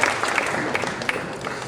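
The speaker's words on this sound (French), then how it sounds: "je vous remercie d'applaudir le maire, Hubert Falco" An audience applauds the mayor at an event for the Sporting Club de Toulon football club, a brief steady burst of clapping with scattered sharper claps.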